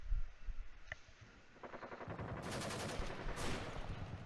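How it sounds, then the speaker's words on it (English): Plasma cannons fire in a space video game, a rapid burst of repeated crackling shots building into sustained fire, fairly quiet overall. "they don't fire when the plasma cannons are going off"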